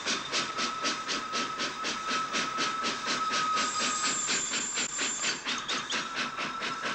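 A large steam locomotive on the old Paris-Lyon-Méditerranée line rolls past with loud rhythmic chuffing and hissing steam, a steady clickety-clack beat with a whistle-like tone running through it and no voices.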